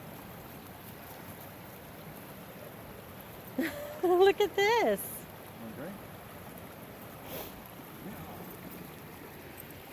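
A stream flows near a small waterfall on a hike, a steady rushing wash of water running throughout, with a voice speaking briefly over it in the middle.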